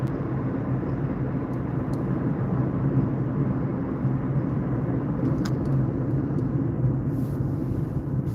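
A car crawling along in slow, heavy traffic at about 42 mph, with a steady, even road and engine rumble throughout and no talking.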